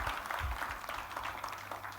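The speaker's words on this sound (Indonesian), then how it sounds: "Ayo kita kasih tepuk tangan yang paling meriah buat Tuhan kita." A church congregation claps for God during a sermon, soft, somewhat distant applause from many people, continuous but low and muffled.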